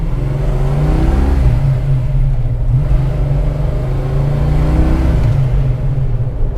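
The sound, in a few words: muscle car engine accelerating, short shifting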